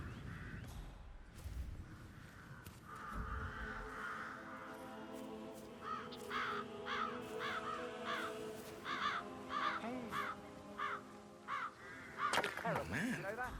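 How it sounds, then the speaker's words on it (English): Crows cawing around their nests in the Hitman 3 video game, a series of repeated harsh caws growing louder toward the end, with a faint voice at the start. "Damn birds. If I could just get clear hits on those nests."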